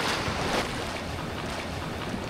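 Sea waves wash and hiss at the beach in Casiguran, Aurora, a broad steady surf roar mixed with wind buffeting the microphone, with no talking.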